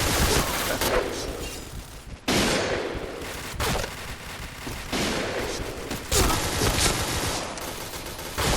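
Rapid automatic gunfire from a gun in the first-person shooter game Point Blank, sustained bursts rattling almost without pause, loud and close, with brief breaks between strings of shots.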